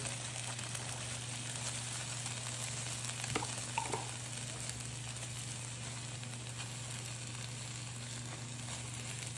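Pasta and meatballs simmer in sauce in a pan, giving a soft, steady sizzle with a low hum underneath. There are one or two faint clicks and no one speaks.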